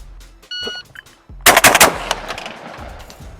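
A Remington V3 Waterfowl Pro shotgun fires rapidly at clay targets outdoors, a quick burst of loud, sharp blasts that ring out and decay, with a short electronic beep earlier on.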